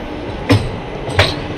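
At Nidadavolu Junction, the Ratnachal Express creeps slowly into the platform, with three sharp, evenly spaced wheel clacks over rail joints rising above a low steady rumble.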